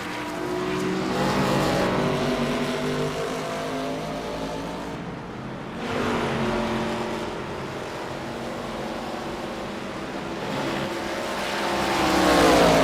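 ARCA stock cars roar around the Watkins Glen road course, engines swelling loud as the pack passes close, fading briefly, then building again with rising revs near the end, no voices over the racket.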